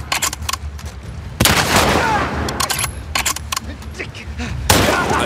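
Rapid bursts of video game gunfire from The Last of Us Part II crackle in quick succession, broken by two louder, longer volleys that ring out and fade.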